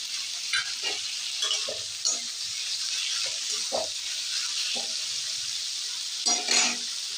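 Onion, garlic and tomato fry lightly in a pan for ol kachu bharta, a steady close hiss and sizzle with scattered stirring scrapes and a louder burst near the end.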